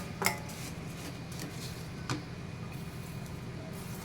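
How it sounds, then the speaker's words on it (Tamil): Two sharp metallic clanks, like a lid set on a pot after vermicelli is poured into boiling water, stand out over a steady low kitchen hum, with lighter scraping in between. "சேமியாவை கொட்டி மூடி வச்சிடலாம்."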